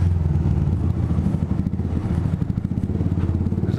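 A Yamaha R125 motorcycle with a Scorpion exhaust idles and revs close by in a car park, loud, rough and pulsing throughout with no talk.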